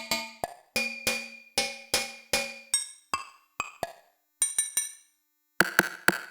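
Synthesized bell tones from a drum synth module ring out one after another, bright metallic strikes with short decaying tails, some in quick pairs and clusters, separated by brief silences with no talk.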